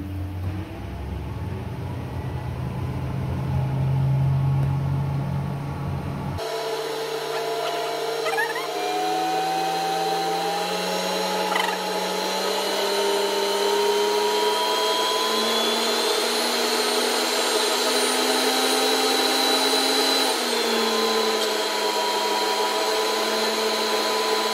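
A micro hydro turbine spools up: a steady mechanical whine that rises in pitch over about twenty seconds, after a brief rougher, noisier start, loud and continuous with no talking.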